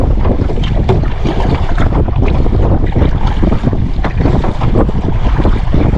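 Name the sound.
strong wind while kayaking on a lake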